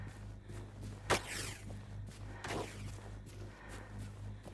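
Two sharp gunshot-like cracks about a second apart in the video game Generation Zero, each followed by a sweeping whoosh, over a steady low electronic hum with no talking.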